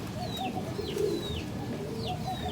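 A Rampuri pigeon coos softly in a low, repeated rumbling pattern at close range, with faint bird chirps and steady background hum.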